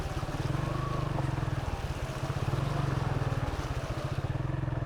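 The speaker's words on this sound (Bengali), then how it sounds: "নদী পার হচ্ছে আমার বাইক দিয়ে এখন নদী পার হচ্ছে" A motorbike pushes through a road flooded after a day of rain, its engine a loud, steady pulsing thrum that runs the whole way with no voices.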